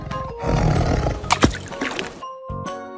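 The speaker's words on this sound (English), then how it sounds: "Tiger." A tiger gives a loud, rough roar lasting about two seconds, close and alone, followed by a brief silence and the start of another sound.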